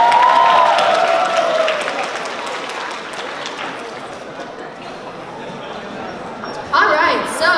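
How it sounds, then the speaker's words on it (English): An audience at the Miss Asia pageant at Binghamton University claps in a crowded round of applause that fades out gradually, with voices heard over it before a burst of sound near the end. "Let's just give them another round of applause."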